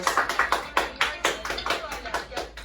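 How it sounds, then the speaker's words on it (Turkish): A studio audience applauds on a Turkish talk show, sharp rhythmic bursts of clapping that come in quick, fairly even waves. "Alkışlarınızı Şeriban Hanım için alıyoruz."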